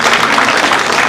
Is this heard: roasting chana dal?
no